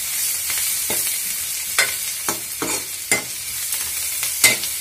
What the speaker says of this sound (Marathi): आपल्याला आता इथे कांदा असा लालसर होईपर्यंत आपल्याला कांदा असा मस्त असा भाजून